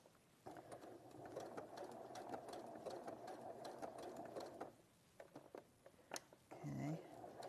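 A sewing machine stitching a circle with the needle down runs steadily at close range for several seconds, stops briefly, then gives a few short bursts of stitching with faint voice in the background.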